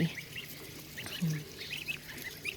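Small, high-pitched peeping calls of month-old Chinese goslings come in scattered bursts over a low steady background, with a few soft lower honks.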